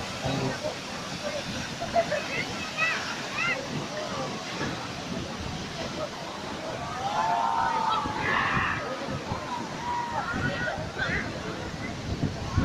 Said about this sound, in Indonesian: air terjun Sigura-gura.